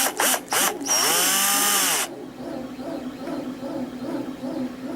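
A power drill drives a screw into the wooden neck of a homemade cigar box guitar, a loud whirring burst with a few short starts and a descending whine lasting about two seconds, then quiet room noise.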